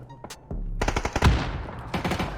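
Rapid bursts of automatic gunfire from PUBG during a competitive qualifier match, sharp close cracks in quick volleys followed by a further burst, heard alone.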